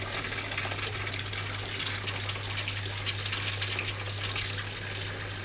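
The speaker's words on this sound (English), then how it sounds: "I just need to switch off, because otherwise the pump will run dry." A water pump runs steadily, filling a tank with a continuous rush and gush of flowing water over a low electric hum, loud and close, with no one talking.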